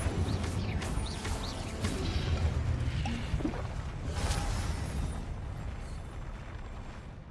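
Incendio fire spell from the Hogwarts Legacy game cast in combat: a sustained roaring, rumbling blaze with crackling bursts, loud and continuous from start to finish with no talk.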